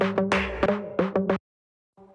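Synth pluck, a rapid melodic sequence of bright, short plucked electronic notes that stops abruptly, followed by a brief fainter tone after silence.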